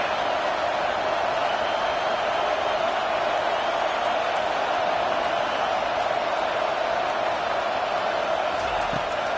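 A football stadium crowd roars at the offense, a loud, continuous, unbroken wash of cheering and noise that holds steady throughout, with no distinct pauses.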